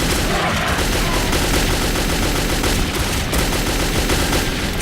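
Dense, loud gunfire from the shooter game Metro 2033 rattles almost without pause, with overlapping rapid shots filling the whole stretch.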